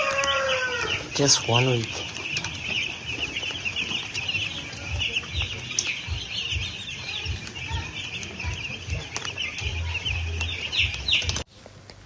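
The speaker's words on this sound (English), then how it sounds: "Chicks are growing so big, so fast." Week-old chicks cluck and cheep constantly in a poultry farm house, a busy chorus of many birds close by, with a person speaking briefly over them.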